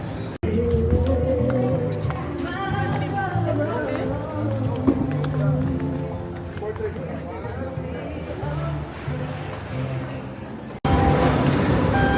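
A train rumbles and rolls along with a steady mechanical drone, arriving at a busy station in Boston, while a crowd murmurs nearby and voices chatter throughout.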